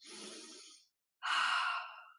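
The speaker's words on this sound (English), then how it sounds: "Breathe out." Slow, deliberate breaths during a calming exercise, a soft airy inhale followed after a short pause by a louder, longer exhale through the mouth, close and alone.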